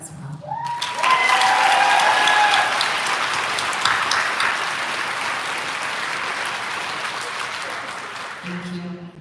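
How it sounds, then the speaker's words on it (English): Sustained applause from a graduation ceremony audience for parents and families, a dense, loud wash of clapping that swells and holds steady, with a voice heard briefly at the start and again as it ends. "applause for your parents and families who are here to support you as well"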